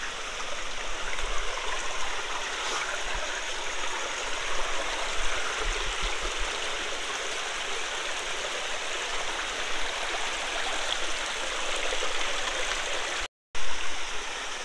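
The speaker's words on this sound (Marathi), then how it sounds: "सकाळच बघा, पाण्याचा आवाज किती एकदम सुंदर असा आवाज येतो." A steady rushing stream flows close by in the morning, a dense continuous wash of water filling the whole clip with only a brief dropout near the end.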